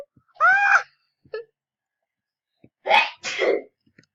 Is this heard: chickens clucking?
no